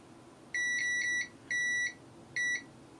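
A multimeter in continuity mode gives three clear, bright electronic beeps in an uneven rhythm, short, medium and short, each a steady tone with a quiet background between.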